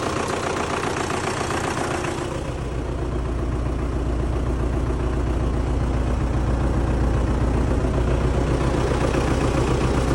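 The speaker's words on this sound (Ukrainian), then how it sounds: "Мотор не димить, не шатунить." An MTZ-82.1 tractor's diesel engine idles close by with a steady, rough, knocking chug, loud and continuous with no talk over it.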